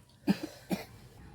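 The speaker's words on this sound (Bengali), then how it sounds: "কাশি হচ্ছে কেন তো গলায় আটকে গেছে নাকি" Two short, quiet coughs, about half a second apart, with nothing else around them.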